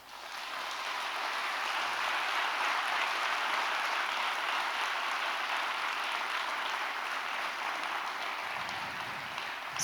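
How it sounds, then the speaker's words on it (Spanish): A church congregation applauds the Lord, a broad, steady wash of many hands clapping that holds evenly for nearly ten seconds with no voices over it, easing only at the very end. "¿Por qué no le das un aplauso al Señor?"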